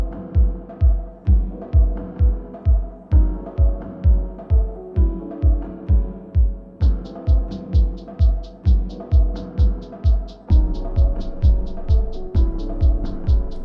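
A sewing machine stitches down a skirt waistband in fast, regular bursts of rhythmic thumping, pausing briefly between runs, close and fairly loud.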